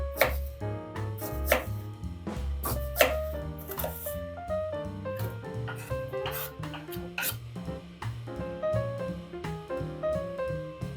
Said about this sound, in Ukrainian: Я нарізаю цибульку кубиками.